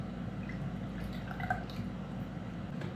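Melted candy syrup pours into an iced latte cup with ice, a faint, steady liquid trickle with small dripping splashes over a low background hum.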